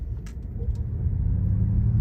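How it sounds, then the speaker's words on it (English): A Ford Mustang Mach E 4X pulls away from a standstill in unbridled drive mode with traction control off, a deep road rumble and low electric hum building steadily, close and with no talking. "Let's hit the throttle"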